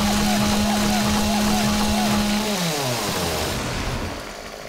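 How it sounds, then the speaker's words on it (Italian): Chainsaw cutting a tree in the survival game 7 Days To Die, a loud continuous buzzing engine whose pitch drops and bogs as the blade bites into the wood, then fades slightly at the end. "tra l'altro la motosega mentre taglia sembra un cane che abbaia"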